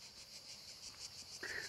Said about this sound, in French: Avec le doux chant des cigales.